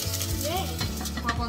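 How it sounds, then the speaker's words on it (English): Mustard and cumin seeds pop and crackle in hot oil for Goan channa masala, a steady close sizzle with scattered sharp pops and no talking. "I'm gonna add 1 teaspoon of mustard seeds, yes. 1/2 teaspoon of cumin seeds. You hear that popping?"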